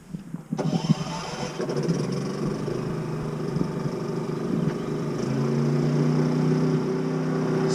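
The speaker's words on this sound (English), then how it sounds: "So that's the generator running at high, about 64 decibels." A Champion 3400-watt dual fuel inverter generator runs on its high setting, giving a steady, moderately loud engine drone with a mechanical hum that holds constant and rises slightly partway through, with no talking.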